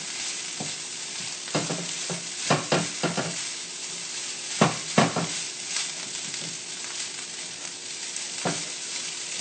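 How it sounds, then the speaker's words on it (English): Fried rice sears and sizzles steadily in a hot pan, with repeated scraping and tossing strokes clustered in bursts, close and loud, with no talking. "let the bottom of the rice start to burn and sear. And then keep tossing."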